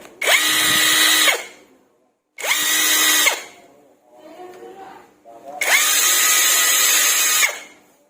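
A high-pitched cordless impact wrench whines at full speed in three long bursts with short pauses between, close and loud, with faint activity in the gaps.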